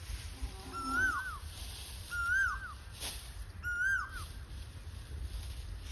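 An Asian koel gives three clear, rising-and-falling whistled calls at steady intervals in a village in Botad, Gujarat, each repeated with a soft echo over a low outdoor hum.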